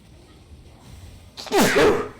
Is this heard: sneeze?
yes